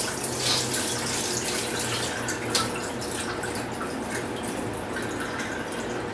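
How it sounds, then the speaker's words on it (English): Water from soaking rice drains away in Korean makgeolli rice wine making, a steady splashing, trickling flow with occasional drips, close and moderately loud, with no talking. "So this morning I got up and I can drain the water."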